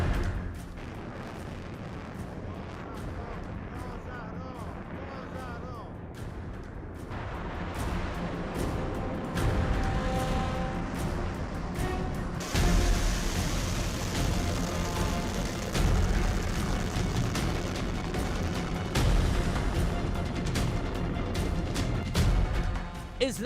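Iranian Fattah and Kheibar missile explosions over Israel boom repeatedly, deep rumbling blasts rolling one after another and growing heavier, with a continuous low roar between them.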